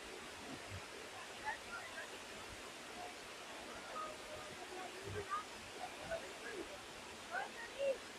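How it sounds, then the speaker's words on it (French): The Hérisson cascades, a waterfall seen from the foot of the first fall, give a soft, even rush of falling water, with scattered voices and movement nearby. "Ah, on est au pied de la cascade."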